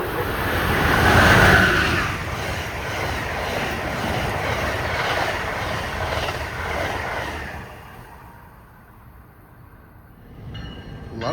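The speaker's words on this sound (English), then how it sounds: "Here comes train number 97. That is, of course, the Silver Meteor." The Amtrak Silver Meteor, train 97 bound for Miami with sleeper cars, rushes past close by in a loud steady roar of wheels and cars, then fades away to near quiet before a faint rise at the end.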